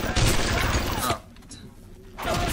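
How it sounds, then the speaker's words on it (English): Gunfire in the video game BioShock, a dense burst of rapid shots with clattering impacts, then a quieter lull before the firing resumes, with a voice talking over it. "Normally, if you hear gunfire, at any point in BioShock, it's just best to assume that you're the one being shot at."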